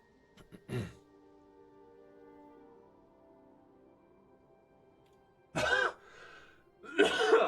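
A single throat-clearing cough near the start, then quiet, followed by two more harsh coughs toward the end, close to the microphone with a faint tone lingering between them.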